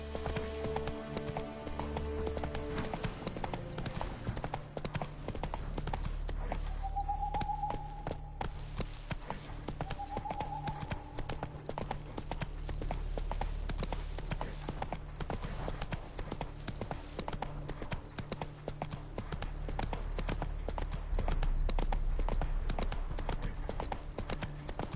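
Roach, the horse in The Witcher 3, gallops with a fast, continuous clatter of hoofbeats, loud and close, with brief faint tonal sounds rising midway.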